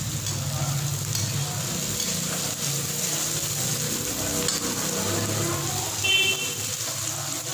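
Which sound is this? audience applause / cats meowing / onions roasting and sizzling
onions roasting and sizzling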